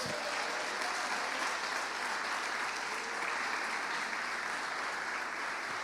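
A church congregation claps in praise during a sermon, dense sustained applause throughout, steady and loud with a faint murmur of voices underneath.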